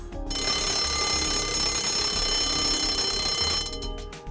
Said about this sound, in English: After the water motor alarm has sounded